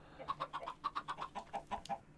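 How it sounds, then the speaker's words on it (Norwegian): Chickens in the Minecraft video game cluck in a quick, steady series of about a dozen short, bright calls over about two seconds, close and clear with no talking. "Han dreper kyllinger."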